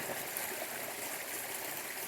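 A flowing woodland creek near an off-grid cabin gives a soft, steady broadband rush of running water, faint and continuous with no voices over it.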